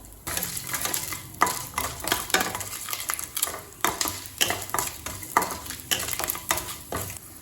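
Urad dal, chana dal and garlic toast in a pan, with a sizzle under repeated scraping and clinking stir strokes, busy and fairly close throughout.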